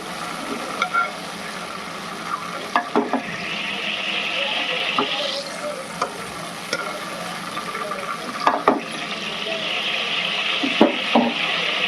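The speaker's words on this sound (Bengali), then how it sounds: "এবার এই তেলের মধ্যে আমি গরম মশলা ফোড়ন দেবো।" Whole garam masala and a bay leaf crackle in hot oil in a kadai, a moderate sizzle with intermittent clicks and scrapes of stirring, and a brief hiss that rises and fades midway.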